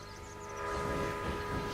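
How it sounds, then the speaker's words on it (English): Train passing in the video game Railway Empire, a rumbling rolling sound that swells after a moment over steady musical tones, with a faint whistle-like pitch early on. "Got a train going through."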